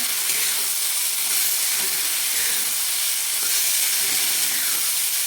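Washed shrimp frying with softened tomatoes in a pan for a village-style shrimp chutney, a dense, loud, steady sizzle with a faint rising and falling hiss and no talking.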